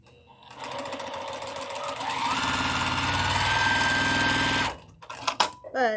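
A sewing machine stitches in a fast, steady mechanical whir for several seconds, speeding up slightly before stopping abruptly, followed by a few short clicks and a brief voice.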